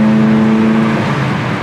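A 1967 Pontiac GTO roars loud and close during a second-gear tire burn, with a steady, heavy engine drone that holds through the whole moment.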